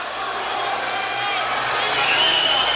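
A boxing crowd at a title defense roars in a steady, loud wash of cheering and whoops that swells toward the end, with commentators talking over it.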